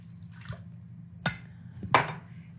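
Milk poured into a mixer bowl while starting a brioche dough, heard as two brief liquid splashes over a low steady hum in a quiet kitchen.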